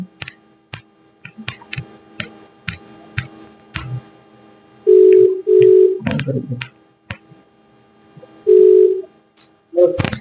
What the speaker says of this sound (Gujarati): હજી પણ આપણે ફોન કરી દઈએ